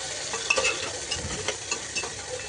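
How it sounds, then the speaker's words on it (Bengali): Spices sizzle steadily in hot mustard oil while a utensil stirs the pan, giving a continuous close frying hiss with small scraping accents. "আমি আর একটু নাড়িয়ে নেবো যাতে পুরোটা ভাজা হতে পারে"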